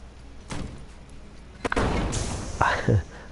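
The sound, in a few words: M1 rifle gunfire in video game Enter the Gungeon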